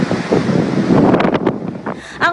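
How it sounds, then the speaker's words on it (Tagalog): Storm surge waves pounding the Manila Bay shoreline during Typhoon Pedring, with heavy wind buffeting the microphone in a loud, continuous roar of surf and gusts, and a voice briefly audible near the end. "Storm surge, kung tawagin ang nasaksihan nating nagngangarit na alon na humampas sa baybay na Manila Bay"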